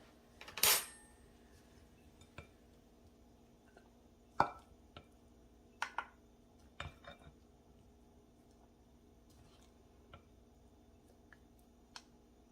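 Dishes and a bowl clatter in a home kitchen during pasta cooking: a handful of sharp, separate clinks and knocks spread across a quiet stretch, the loudest near the start, with no talking.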